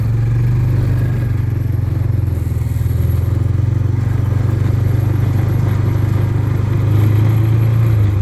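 A Honda ATC 250SX engine fitted to a Club Car DS golf cart runs loud and close, a steady low engine drone with a faint rattle that holds throughout and rises slightly near the end.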